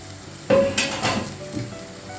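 Onions frying with salt in a pan for a moong dal masala curry, a sudden burst of loud sizzling as the pan is uncovered, with a clink of utensil and hissing that then settles to a steady crackle.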